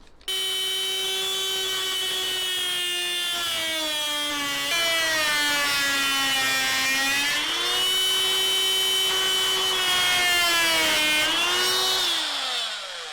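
A power saw cuts small pockets in dry redwood for a spar, whining loudly with a pitch that dips and rises as the blade loads and frees, then winds down at the end.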